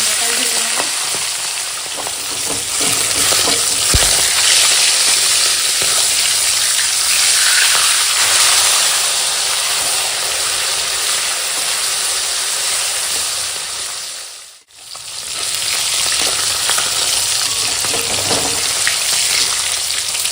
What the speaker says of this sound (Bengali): তেল পটকাটা এমনি ভাজা করে নেব